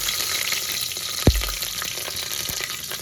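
Two green chillies dropped into spluttering hot oil for a pulav, giving a continuous loud sizzle with one sharp thud and crackle burst, then steady frying with a few faint pops.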